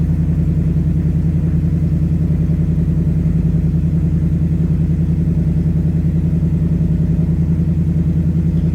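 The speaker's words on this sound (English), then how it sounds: "Oh, we can open up the exhaust notes." A deep, steady 2024 Ford Mustang GT V8 rumble with a throaty exhaust note holds evenly throughout, loud and close, with no talking.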